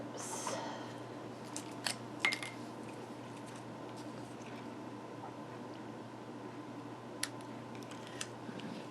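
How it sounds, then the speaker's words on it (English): Scissors snip through card paper during card making, giving a few faint, sharp cuts spaced apart in a quiet room. "I'm going to bring in this piece and I'm going to cut it in half."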